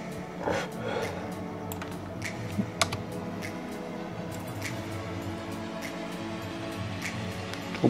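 Keys on a computer keyboard tap in light, scattered clicks during Photoshop photo editing, steady and close with no one talking.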